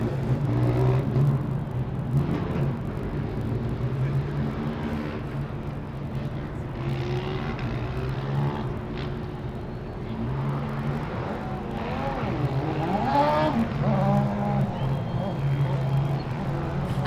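A Formula Student combustion race car accelerates away on an autocross course at FSG 2012, its engine note climbing through several rising sweeps at a distance beneath a commentator's voice.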